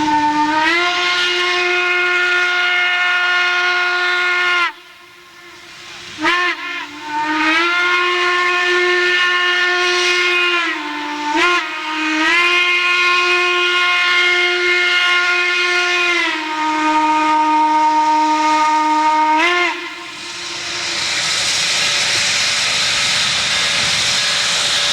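A restored Southern Railway steam locomotive on an excursion sounds a long, loud, chime-like whistle in several sustained blasts with short gaps, then rumbles past, ending in a broad roar of passing train noise.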